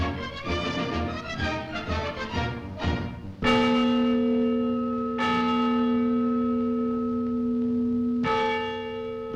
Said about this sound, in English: Every day at noon, the bell rings out from the tower of the Schönberg Town Hall.